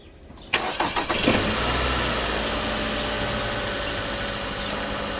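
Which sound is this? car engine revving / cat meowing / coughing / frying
car engine revving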